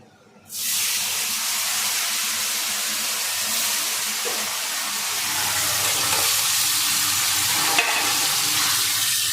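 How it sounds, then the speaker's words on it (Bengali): Paneer dropped into a hot kadai starts a loud, steady sizzle that begins abruptly after a short quiet moment and keeps crackling with faint stirring, with no talking. "কড়াই বসিয়েও দিয়েছি আমি আবার গরম হয়ে গেছে পনিরটা দিয়ে দিই"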